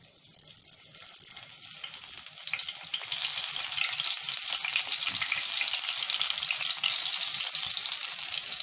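Marinated chicken testicles fry in a pan of oil. The sizzle starts softer and swells to a loud, steady crackle after a few seconds, with no talk.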